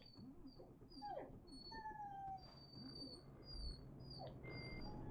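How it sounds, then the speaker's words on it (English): A dog whines and whimpers with thin, high drawn-out cries and a few short yips, faint and close, repeating in uneven bursts over a low rumble of background noise. "I'm really sorry about the dog whining."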